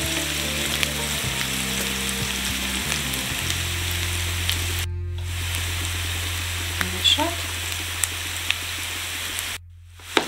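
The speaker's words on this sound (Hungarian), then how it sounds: "Pirítom a rizssel együtt." Rice frying in a pan with onion gives a continuous, even sizzle with a steady hum underneath, broken by a few light stirring clicks and two brief gaps.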